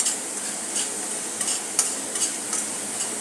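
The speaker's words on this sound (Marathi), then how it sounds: "अशा प्रकारे मी परतून घेत आहे." Spices sautéing in a pan for a gravy, loud steady sizzle broken by regular stirring scrapes and soft clinks of a utensil, close up with no voices.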